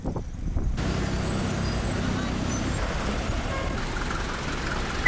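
Steady street traffic in The Gambia, heard while cycling: a continuous close wash of engine rumble and road noise from cars, buses and trucks, with no clear pauses.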